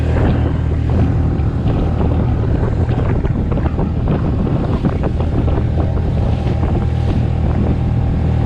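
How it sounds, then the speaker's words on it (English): Strong wind on a loch in Orkney roars and buffets a microphone without letup, a loud, dense blustery rush that fills the whole stretch, with no talking. "Wind's just not dropping at all."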